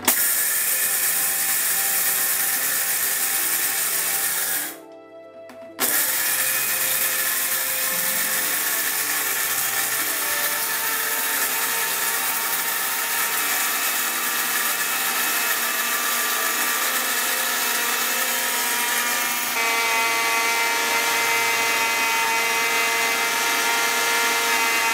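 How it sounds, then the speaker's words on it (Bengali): Electric blender grinding gram flour (besan) into powder: a loud, steady whirring motor drone for about 25 seconds, cutting out briefly near the start before resuming, with no talk. "এখন ব্লেন্ডারটা চালু করে দেখাই দিচ্ছি"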